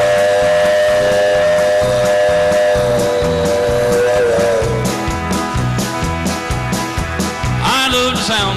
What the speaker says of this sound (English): I do love the sound of an old steam whistle.